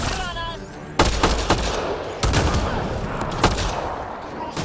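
Gunfire in the video game Mass Effect: Andromeda, several sharp loud shots in irregular bursts over a continuous din of battle noise, with a voice heard briefly at the start.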